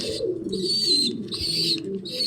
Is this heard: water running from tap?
no